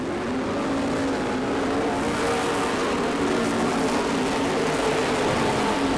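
Race cars roar together in a steady, loud wall of engine noise as the field takes the green flag at a night race on an oval racetrack.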